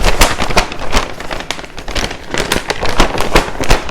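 Chicken pieces are shaken in a bag of flour and Old Bay seasoning, producing a loud, rapid, irregular crackling rustle of bag and contents close by, continuous throughout without talk.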